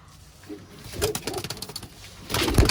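Giribaz pigeons in a pigeon loft giving soft, throaty coos in a few overlapping phrases, close by, with rustling and a faint voice in the background.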